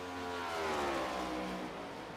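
Racing car engines roar in a stock car sim racing game, a loud, steady, full-bodied drone with rising and falling engine pitch throughout, and no talk.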